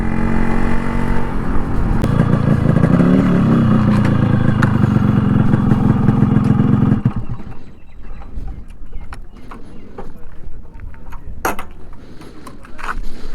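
A stock, restored Yamaha RX135 motorcycle engine runs steadily and loudly up close for about seven seconds, then is switched off. Quiet clicks and faint handling noises follow.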